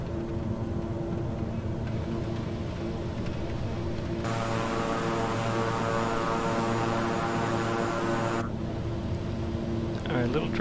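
Twin engines of a King Air 350i aircraft in Microsoft Flight Simulator, a steady droning propeller hum with a tonal whine that swells louder and brighter in the middle, then settles back.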